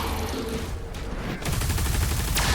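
A rapid-firing weapon in Doom: The Dark Ages shooting at plasma-shielded enemies, a loud dense barrage of gunfire and impacts, continuous and close, swelling heavier halfway through.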